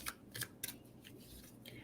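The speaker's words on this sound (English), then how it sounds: "I'm just going to shuffle it for you real nice." Playing cards shuffled by hand during a reading, a few quick papery riffle bursts with soft rustling between, close and fairly quiet with no talk.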